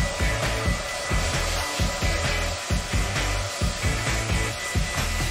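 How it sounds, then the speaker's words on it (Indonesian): Hair dryer blowing steadily in a home hair-curling beauty trick, a continuous loud whooshing airflow with rhythmic fluctuating hum and music-like pulses underneath, no talking. "Sekarang tinggal pakai pengering rambut."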